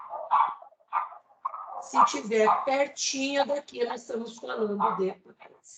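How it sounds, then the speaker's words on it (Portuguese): A neighbour's excitable dog barks and yips repeatedly in the background while a person keeps talking over it. "Esse é o cachorro da minha vizinha, que é histérico. Peço desculpas pela latição."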